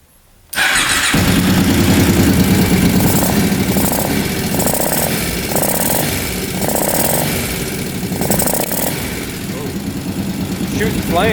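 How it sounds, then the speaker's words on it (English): A used ATV engine with two carburetors cranks and catches, then runs loud and steady, revving in repeated surges and settling into a rough idle close by. "So I'm just gonna start this thing up and we'll see what the carbs do here."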